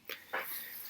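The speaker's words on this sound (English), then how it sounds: "the dog is barking outside of all times" A dog barks a couple of times outdoors, two short faint yelps at a distance, quiet and brief against a light background hiss.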